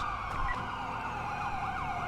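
An ambulance siren wails in a police-themed video game, a repeating rising-and-falling electronic tone that holds steady and fairly prominent throughout.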